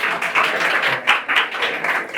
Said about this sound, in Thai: ขอเสียงปรบมือให้พี่วสันต์ศรีพิเขตครับ